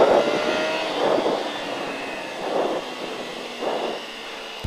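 A motorcycle engine rises and falls in repeated revving surges as it laps a race circuit at La Ferté-Gaucher, fairly close, with a steady whine between the bursts.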